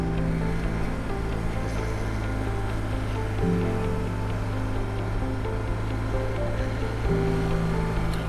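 A 2008 BMW R1200GS motorcycle engine, brought back to life after 16 years in storage, runs steadily at a constant hum with a low droning tone. It is loud and continuous, and no one talks.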